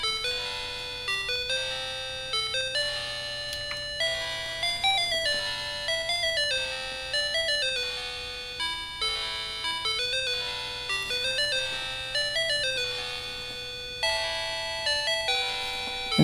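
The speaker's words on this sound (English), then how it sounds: "the Mockingboard will play sounds that the built-in speaker can't play" Bright, chiming chip-style melody from a Mockingboard 4c sound card on an Apple IIc, with steady repeating square-wave notes and a rhythmic pulse, playing alone at moderate volume throughout.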